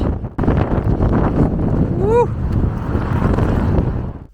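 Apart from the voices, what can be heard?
strong wind blowing into the microphone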